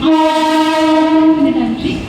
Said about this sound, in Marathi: प्लॅटफॉर्म क्रमांक 2 वर आलेली लोकल